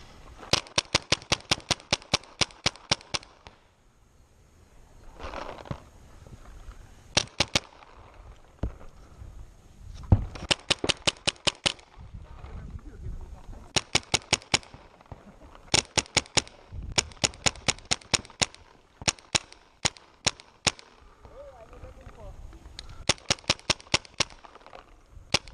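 Paintball guns firing outdoors during a game, rapid bursts of sharp popping shots in quick strings with short gaps, some nearer and some farther off, no clear talk.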